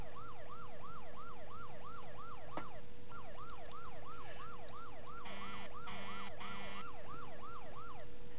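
A video game fire truck's undercover siren wails, sweeping up and down rapidly and continuously, joined partway through by a few loud bursts of a harsher horn-like blare.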